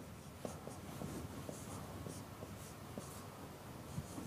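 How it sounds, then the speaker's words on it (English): Chalk or marker scratching on a board during an acoustics lecture, heard as faint, repeated strokes and taps over a quiet room hum, with no talking. "let me write it down here"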